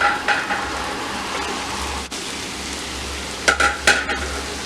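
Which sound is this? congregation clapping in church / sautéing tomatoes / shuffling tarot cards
sautéing tomatoes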